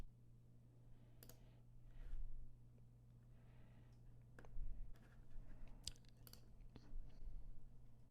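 Several light, sharp mouse clicks scattered over a quiet room hum as a Submit Request button is pressed in RealQuest Professional property-search software.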